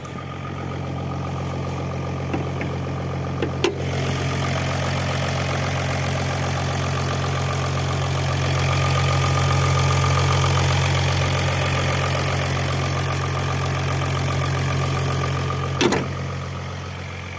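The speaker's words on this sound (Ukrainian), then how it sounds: "Працює мотор дуже гарно, тихенько." A car engine idles steadily with a low, even hum throughout, joined by a couple of brief clicks.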